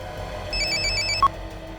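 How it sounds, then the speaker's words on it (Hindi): A telephone ringing during a tense kidnapping scene in a crime drama, a repeating electronic ringtone pulsing at moderate volume over a low background hum, with one brief sharper beep near the end. "किसका फोन है?"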